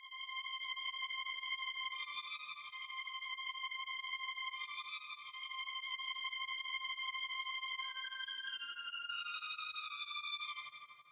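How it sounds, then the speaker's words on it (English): A high string layer in a beat plays a slow counter melody, with bright, sustained notes gliding between pitches in long overlapping phrases and a faint low pulse beneath, steady and quiet throughout. "The first thing I added from there were these high strings,"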